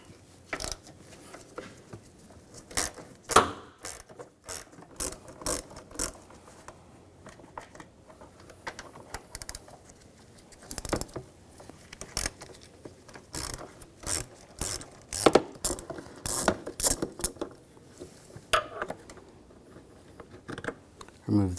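A ratchet fitted with a 10mm socket backs bolts out of a 2007-2013 BMW X5 3.0L inline-six engine during intake gasket work, making close, repeated bursts of quick metallic clicking separated by short pauses.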